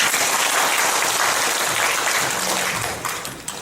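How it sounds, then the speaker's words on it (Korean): An audience at a Democratic Party forum in Daegu applauds to welcome a National Assembly member to the stage. The clapping is loud, dense and close, fills the room for a few seconds, then tapers off at the end. "박수로 환영해 주십시오."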